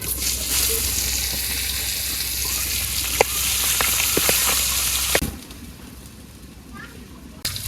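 Poa fish fry in oil in a village kitchen wok with loud, dense sizzling and a few sharp clinks, then the sizzle drops suddenly to a quieter background.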